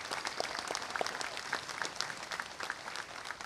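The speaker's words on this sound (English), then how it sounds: "Please applaud all our distinct students." Sustained audience applause at a mid-year commencement ceremony, a dense even wash of many hands clapping at steady strength with scattered louder individual claps throughout.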